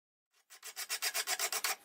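Rhythmic rasping strokes of a file or sharpener across a mild steel chopper blade, about ten quick even passes building in loudness, close up and without talk.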